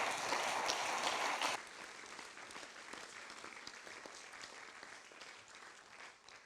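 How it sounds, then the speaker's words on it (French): Applause from the audience at an evening event reviewing a gymnastics festival: loud, dense clapping at first, then dropping to quieter, sparser clapping that slowly fades. "je pense qu'on peut encore leur faire un tonnerre d'applaudissements pour cet événement"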